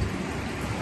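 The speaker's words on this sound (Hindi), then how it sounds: "बारिश गिर रहा है तो अच्छे से गिरने दो" Steady rain falling, a dense continuous hiss with low rumbling underneath, heard alone without voices.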